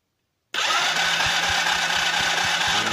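Ignition spark test on a rewired Chinese kids ATV: a loud, steady buzzing crackle starts abruptly and continues without a break, with faint regular ticks running underneath.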